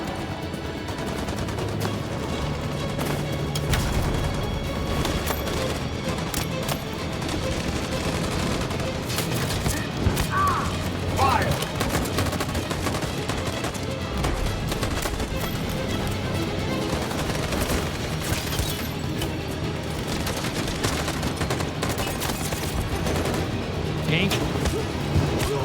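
Sustained gunfire in Detroit: Become Human during the Battle for Detroit, with dense bursts and rattling volleys running continuously under a busy, loud game soundscape with music and ambient rumble.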